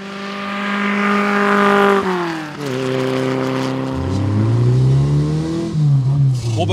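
A Simca 1000 Rallye 2 engine revs loudly and accelerates, its pitch climbing through the gears with brief drops at each shift, close and continuous throughout.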